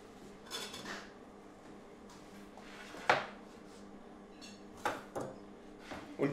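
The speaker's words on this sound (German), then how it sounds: "So eine Wokpfanne ist da super praktisch, da können wir gleich toll drin schwenken." Food tossed in a hot oiled wok at a kitchen stove, a few quiet scattered metallic clatters and scrapes over a low steady background hum, with no voices.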